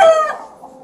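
A rooster crows briefly inside a shed, loud and close, the call fading within a second.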